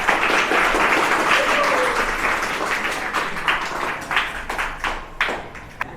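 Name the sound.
applause, students clapping for themselves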